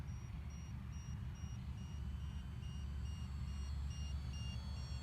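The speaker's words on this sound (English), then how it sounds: "Now you can clearly hear the buzzer." A warning buzzer beeps repeatedly in a steady pulsing rhythm on landing of a radio-controlled Spitfire model plane, sounding over a constant low rumble of engine and wind.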